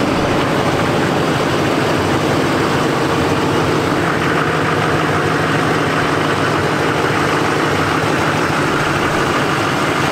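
A steady, loud low rumble from the idling engine of a heavily modified Chevrolet Suburban, unbroken for ten seconds and close by, with no voices over it.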